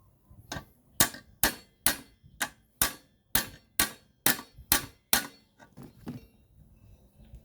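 A hammer taps a valve rocker on a Honda GX35 brush cutter engine about a dozen times in an even rhythm, sharp and close, with short pauses between strikes.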